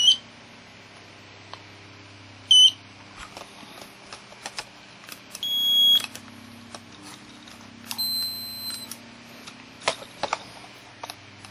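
Several short electronic beeps and tones sound at irregular intervals from a K2 meter buzzer used for ghost hunting, some sustained high buzzes, over a quiet room with faint background noise.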